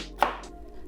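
A knife cutting dried red chilies into pieces on a board, a single sharp close tap followed by a fainter second cut, quiet overall.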